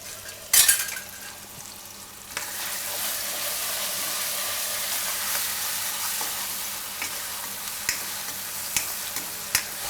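Spices and chilies frying in oil for ulta palak paneer, a bright hissing sizzle that sets in after an initial clatter, with occasional light stirring knocks against the pan.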